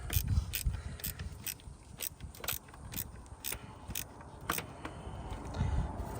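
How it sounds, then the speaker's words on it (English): Repeated ratcheting clicks from a 10 mm wrench tightening a battery terminal on a Honda Civic, a steady rhythmic series of close, fairly quiet clicks with no talking. "go ahead and tighten this down with a 10 millimeter"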